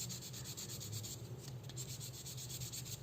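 Fine-grit sandpaper, around 400 to 600 grit, rubs a small model car part in quick repeated back-and-forth strokes, a faint, close, rhythmic scratching.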